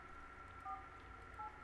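Short series of telephone keypad tones from a phone in the Dead Take video game, two or three brief beeps heard faintly over a low background hum.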